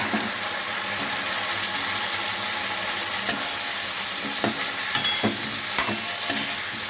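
Chicken sizzling in a pan with tomato sauce, curry leaves and garlic for chicken 65, a dense steady crackle with occasional scraping stirs up close, no voices.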